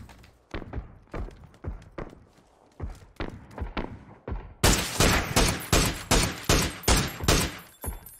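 Shotgun fire in PUBG gameplay: a steady run of heavy booming blasts at roughly regular intervals, growing louder and harsher partway through, with no talk over it.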